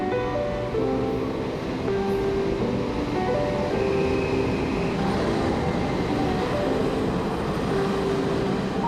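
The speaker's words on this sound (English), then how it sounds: "I'm going to take the train now" Steady rumble and rattle of a moving train carriage in Taiwan, continuous and close, with no talking.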